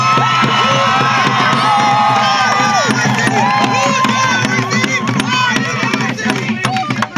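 A crowd at an outdoor speech shouts and cheers loudly, with many overlapping voices, whoops and excited yells filling the space close by, tapering slightly toward the end.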